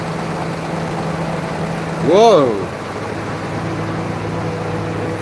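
A Citroen 2CV called Elly drones steadily on a dyno, then rises briefly in a quick rev and falls back to its steady hum, while a voice exclaims during the rev.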